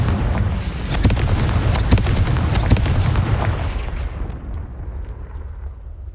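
Confringo fire spell in the video game Hogwarts Legacy bursting in a loud, close explosion of rumbling booms with sharp crackling pops, then fading into a dwindling roar over several seconds.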